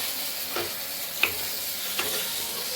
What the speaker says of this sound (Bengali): আর এখানে যেই মশলাটা আমি নিয়েছিলাম আদা জিরে লঙ্কা, এটা এর মধ্যে দিয়ে ভালো করে কষে নেব